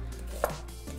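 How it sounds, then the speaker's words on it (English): A knife slices through an onion cut in half, giving one short, crisp cutting sound over quiet room noise, with no voice. "An onion, just chop it in half and then slice it into just slices"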